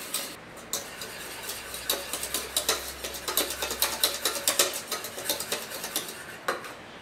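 A whisk beats egg whites and sugar for Swiss meringue in a bowl, warmed to about 40 degrees Celsius, in a quick regular rhythm of scraping metal strokes, close and clear, with no talk.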